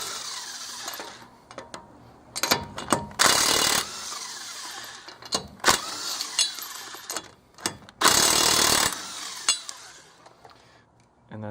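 Bursts of an impact wrench rattle loose the lug nuts on a Toyota Yaris wheel before a drum brake job, two long loud hammering runs amid clanks and clicks of tools and the socket.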